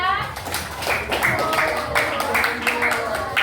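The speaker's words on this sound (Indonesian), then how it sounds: "Tepuk tangan kelompok 3" A classroom of primary school children claps for group 3 after its presentation, a quick, uneven patter of hands with a few excited voices mixed in, fairly loud and close.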